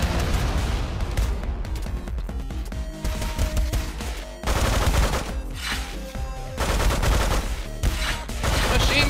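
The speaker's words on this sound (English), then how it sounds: "Machine gun support." Rapid bursts of machine gun fire from the Megabyte Punch video game, dense rattling volleys that come in long loud waves with brief gaps between them. Crashes and a low music bed sit beneath the shooting.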